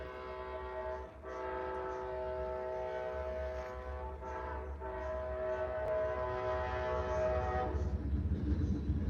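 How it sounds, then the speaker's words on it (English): Amtrak train passing at a distance with a long, sustained horn blast and a continuous low rumble of rolling cars that grows slightly louder toward the end. "Amtrak going by as I'm saying that."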